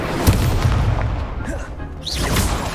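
Incendio fire spell cast in the Hogwarts Legacy video game, a dense whooshing, booming burst of flame amid ongoing combat effects, loud and continuous with brief rising swooshes.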